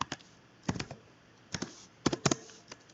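Computer keyboard keys typed in a few quick bursts of sharp clicks, close and clear with short pauses between groups, no talking.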